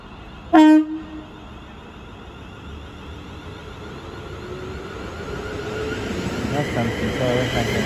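A London Northwestern Railway service from Crewe to London Euston departs Milton Keynes Central, starting with a short, loud horn blast and then a low rumble and rising whine as the train pulls away, growing steadily louder.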